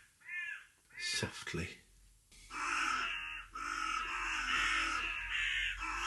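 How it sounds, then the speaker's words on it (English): Harsh caws from fighting crows outside ring out repeatedly, some overlapping in a noisy squabble, with a voice speaking softly briefly in between. "I've got crows outside fighting, which is what the noise is."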